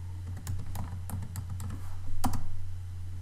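Typing on a computer keyboard, a steady run of close, light key clicks with uneven rhythm and a slightly louder cluster of keystrokes near the end, over a low constant hum, with no talking.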